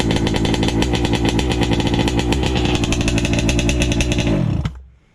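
A Taylor big bore engine fitted with a WJ carburettor runs loud and steady with a dense, buzzing exhaust note, then cuts out abruptly and falls silent near the end.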